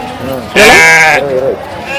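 A loud, wavering sheep bleat rises suddenly and holds for about a second, then trails into quieter, lower animal calls nearby.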